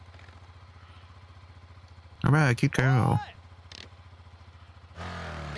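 A motorcycle ridden by the lead girl in the first episode of Kamen Rider 555 gives a low, pulsing idle rumble, with a voice talking over it midway and a louder burst of engine noise at the end.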